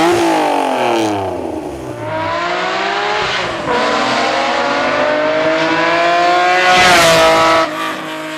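An Acura NSX mid-engine sports car roars in a Need for Speed racing game, revving hard and climbing through gears with several upshifts, loud and close, with faint tire squeal.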